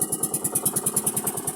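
A fishing boat's engine runs steadily at close range, a rapid, even mechanical throb with regular pulsing beats and no talk over it.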